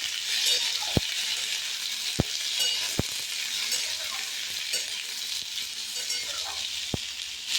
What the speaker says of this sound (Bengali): আদা কাঁচা লঙ্কা বেটে রেখেছিলাম, সেটা দিয়ে একসাথে নেড়ে চেড়ে নেবো